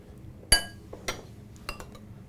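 A metal utensil clinks against a bowl three times while a dressing with fresh basil is mixed, sharp bright taps spaced about half a second apart, close and fairly quiet, no talking.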